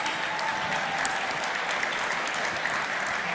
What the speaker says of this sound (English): can we get one more applause for this?